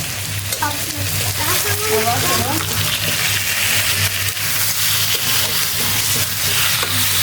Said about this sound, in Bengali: আর মাংস ভালো করে কষায় নেই